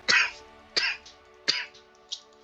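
Three or four short, sharp coughs from a man, spaced roughly evenly and loud up close, with no talk between them.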